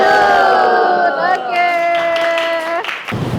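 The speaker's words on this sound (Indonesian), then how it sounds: "Kita berikan tepuk salut dulu buat kelompok 2." A classroom of students chanting together in a sustained, sung group shout during a tepuk salut clapping chant. The voices hold long tones, then break off into a brief clatter of claps near the end.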